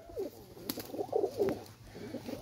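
Pakistani Teddy pigeons coo in soft, throaty rolling bursts, several calls in quick succession, fairly close with quiet background.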